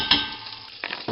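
Oil seasoned for a soup sizzling steadily in a pot, with brief louder bursts of stirring near the start and end of the short stretch.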